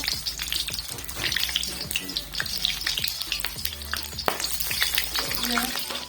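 Chopped tomatoes fry in hot ghee in a pan for potato bhujia, a loud, steady, dense sizzle with crackling pops and stirring scrapes throughout, close by and with no one talking.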